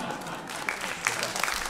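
An audience applauds at a poetry tribute reading, a dense wash of clapping with a few sharper claps standing out, steady and moderately close throughout.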